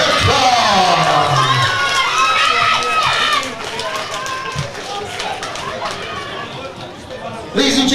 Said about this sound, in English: please keep your applause going for her opponent, Isla Ferguson.